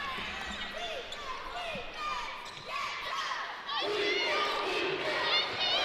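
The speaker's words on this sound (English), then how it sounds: "Another good crowd has come to see this entertaining Campbell team that is undefeated at home." Spectators at a Drexel vs Campbell CAA college women's basketball game make a steady murmur in an indoor arena, with sneaker squeaks and voices over the top and the crowd swelling louder toward the end.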